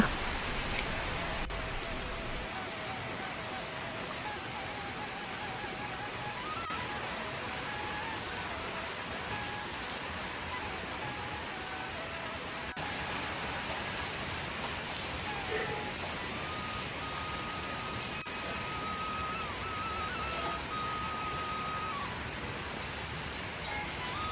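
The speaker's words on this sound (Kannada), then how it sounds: "ಇನ್ನು ಮಳೆ ನೋಡಿ ಹೆಂಗೆ ಬರ್ತಿದೆ ಗೊತ್ತಾ" Steady rain falls on a rainy day, a continuous broadband hiss of moderate loudness that holds evenly throughout with no clear breaks.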